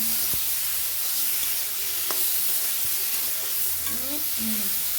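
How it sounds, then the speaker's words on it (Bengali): Prawns frying in a pan give a loud, continuous hiss and sizzle close up, with occasional stirring scrapes and pops and no talking. "এটা তাহলে চিংড়ি মাছটা দিয়ে দিলাম"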